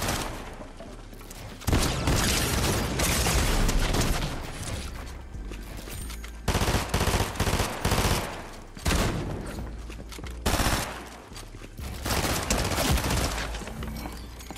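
Shotgun fire in Fortnite, rapid blasts and bursts of gunfire in a loud, dense fight, several heavy shots clustering between quieter stretches.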